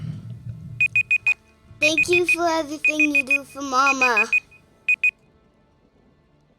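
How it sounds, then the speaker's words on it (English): A timer beeps in short bursts of three or four quick electronic tones, repeating several times while a person speaks over part of it. "The beeps were the first person timer going off."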